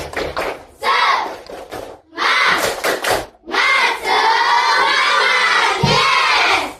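Schoolchildren at an Indonesian elementary school, SDN 9 Sangsit, perform the 'tepuk semangat' clapping chant together, a loud group of young voices shouting in bursts with brief pauses between phrases.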